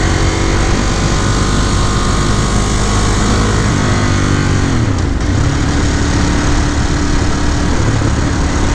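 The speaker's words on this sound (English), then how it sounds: "Like all the pops and burbles on deceleration." Ducati Monster 821 motorcycle engine running loud and close throughout, with a steady drone and a drop in revs midway as it decelerates, crackling and burbling through the exhaust; wind rush sits underneath.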